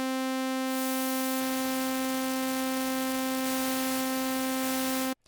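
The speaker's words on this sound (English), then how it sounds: "And you got the noise. Pretty good noise." A synthesizer's noise generator drones on a steady buzzing tone, then a hiss of white noise swells in underneath it before everything cuts off abruptly.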